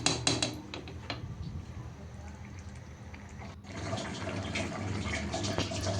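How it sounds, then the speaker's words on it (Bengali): Water being poured into a pan of fish curry to make gravy, a steady splashing flow with a few clinks at the start, a brief dip midway, then continuing evenly. "তো এটা ঝোলের জন্য পরিমাণ মতো পানি দিয়ে এখন এই তো মাছগুলো দিয়ে দিব"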